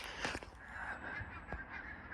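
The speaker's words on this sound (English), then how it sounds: "Birds are back." A flock of geese honks from a distance outdoors on a warming spring day, repeated overlapping calls rising over steady background noise with no talking.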